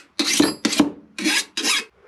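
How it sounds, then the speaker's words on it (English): Four distinct rasping strokes of a flat file cleaning burrs off a chainsaw part, close and loud with short pauses between, no talking. "you just take a flat file and just kind of clean those burrs off"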